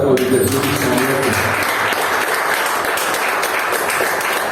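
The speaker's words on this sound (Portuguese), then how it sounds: "Você pode aplaudir Jesus, Senhor." A congregation at a Sunday church service applauds with steady, full clapping throughout, while a short sustained musical tone sounds underneath at the start.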